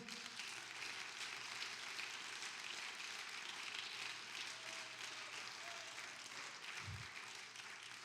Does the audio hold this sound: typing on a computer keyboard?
no